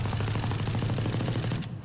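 Continuous rapid automatic gunfire in the video game Valorant, sprayed without recoil control, a dense unbroken burst that fills the whole moment before cutting off.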